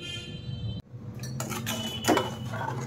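Salt and ajwain mixed in a pan with a metal spoon, giving close scraping strokes and light clinks against the pan, with no talking.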